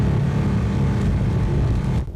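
Nissan GT-R engine running loud and close, a dense low rumble holding steady before cutting off abruptly near the end.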